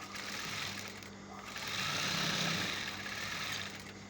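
Sewing machine top stitching fabric pieces, a steady mechanical whir that slows around one second, then swells louder and holds before easing off near the end.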